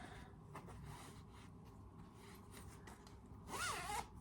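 A red zip on a handmade sheep-pattern bag, about 14 by 12.5 inches, is drawn in a short, quick rasp toward the end, after quiet handling sounds and low room noise.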